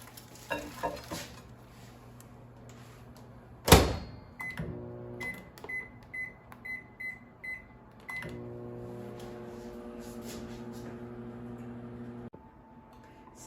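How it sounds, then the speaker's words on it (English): A microwave oven defrosting frozen spinach, with a steady hum running under a run of short, evenly spaced beeps and a few clunks of the door and turntable nearby. "So I'm going to put this in a microwave."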